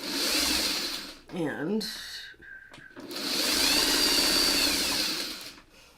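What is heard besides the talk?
sewing machine stitching pieces together in rows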